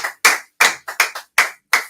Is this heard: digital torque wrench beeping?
no